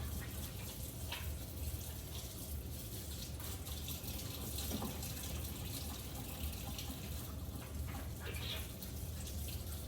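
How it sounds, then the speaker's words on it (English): Tap water runs steadily into a kitchen sink while hands are washed under it during meal prep, a soft continuous splashing with faint rustles and no talking. "I'm gonna wash my hands"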